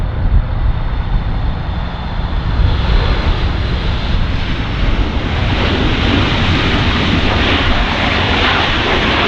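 A United airliner lands on runway 24 right at Los Angeles International Airport, its engines a loud, steady roar that swells into a broad rushing noise, heard from nearby outdoors with some wind buffeting.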